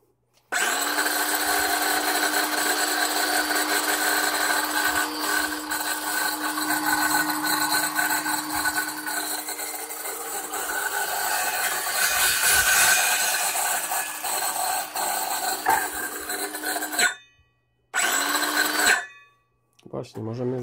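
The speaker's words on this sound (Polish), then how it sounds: "blaty i tego typu deski, to dosłownie nawet nie zająknęła się ta pilarka" A Parkside 20-volt cordless saw cuts through wooden boards with a loud, continuous whine for about seventeen seconds. It stops abruptly, then gives two short bursts before falling quiet.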